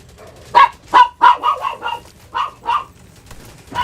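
A dog named Roxy barks in a rapid series of about eight sharp, loud yaps and woofs at close range, with short gaps between them and no talking.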